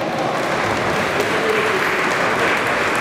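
Steady, dense applause from an audience at a ballroom dance event, rewarding a dance couple after a Viennese waltz, filling the whole moment without a break.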